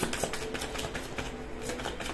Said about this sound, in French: Il y a des travaux partout tout autour de chez moi.